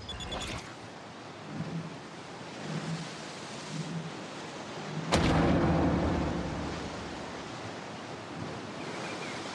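Indian Ocean surf breaking against an ancient rocky shoreline on a remote stretch of the Western Australian coast, a steady broadband roar with one sudden heavier crash midway that swells and slowly subsides.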